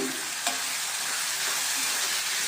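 Garlic cloves and onion fry in a pan for a dry fish curry, giving a steady close sizzle and hiss with a single clink of a utensil near the start. No one speaks.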